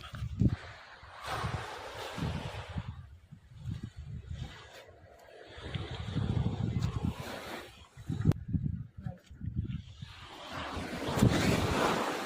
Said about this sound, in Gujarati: મોજાનો ઘૂઘવાટ.